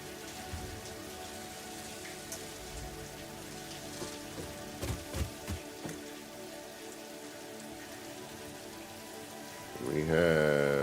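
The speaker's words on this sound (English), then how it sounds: "Get out of the rain for a minute." Steady rain falls on surfaces in the factory-building video game Satisfactory, a continuous moderate patter with a few brief louder knocks midway and a sudden swell of other sound at the very end.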